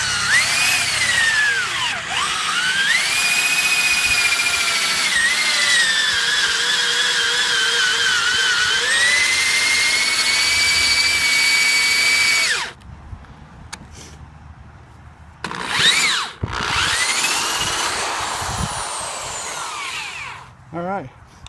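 A power drill running in reverse to back out a lag bolt whines loudly for about twelve seconds with shifting pitch, then stops and gives a few short bursts, with a voice briefly heard.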